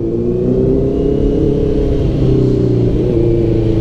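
A Honda CBR650F motorcycle's engine revs and pulls steadily while being ridden, a loud continuous drone with rising pitch and a brief dip as it changes gear, heard up close from the rider's position.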